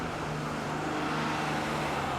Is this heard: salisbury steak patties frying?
no